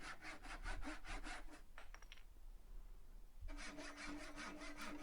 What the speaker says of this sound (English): Here I'm cutting some oak, some hardwood, and again it does the job fairly effectively.